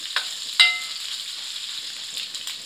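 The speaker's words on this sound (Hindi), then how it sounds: "ब्राउन कर लेना है अदरक लहसुन के पेस्ट को।" Ginger garlic paste fries in a pan with a soft, steady sizzle and a couple of brief stirring clinks, close and quiet.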